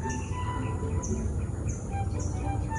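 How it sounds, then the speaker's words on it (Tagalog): Various birds call and chirp around a quiet fishpond, scattered tweets repeating over a steady low rumble of background noise, fairly faint and with no talking. "ang maririnig mo lang po ay huni po ng ano-anong mga ibon"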